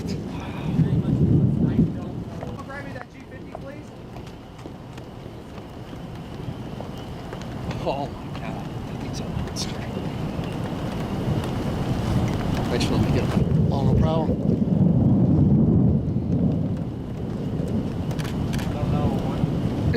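Distant roar of a wedge tornado in Alabama during a March storm, a broad low rumble swelling and easing over the whole stretch, mixed with wind buffeting and a running vehicle engine.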